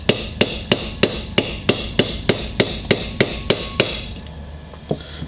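A hammer strikes a traditional punch into an SKS rifle part in about a dozen sharp, evenly spaced metallic taps, then slows to a few last blows after a short pause.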